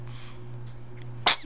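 A single sharp sneeze bursts out near the end after a quiet stretch with a low steady hum in the room.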